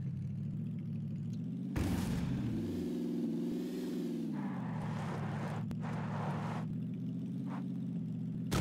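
A droning car engine hum in PlayerUnknown's Battlegrounds that rises and falls in pitch as it revs, with sharp bursts and crashes of game action overhead.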